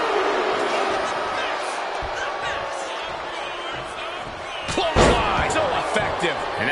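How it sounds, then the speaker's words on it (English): A wrestling clothesline in the video game WWE 2K25, set in an arena: one heavy slamming impact lands near the end over a continuous roar of the crowd, with commentary running underneath. "Clothesline, so effective."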